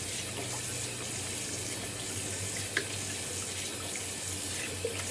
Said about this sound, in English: Let me give this a little quick wash down.